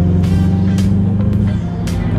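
A ProTuned Subaru Legacy GT engine pulls hard in fifth gear, a loud, close, continuous drone with a few brief rushes of noise layered over it.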